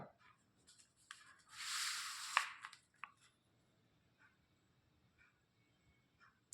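A pencil draws a straight line across paper in one faint, brief scratchy stroke, with a few soft taps and rustles around it in an otherwise quiet room.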